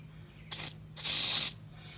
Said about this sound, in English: in these extra little holes, spray some PB Blaster.